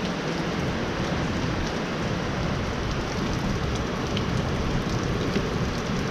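Heavy rain drumming on a roof during repair work on a 2011–2014 Dodge Charger with a 5.7 Hemi, a dense constant broadband hiss with a low rumble, loud and unbroken with no talk.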